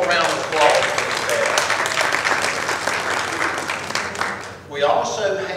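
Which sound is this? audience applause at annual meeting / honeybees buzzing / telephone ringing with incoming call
audience applause at annual meeting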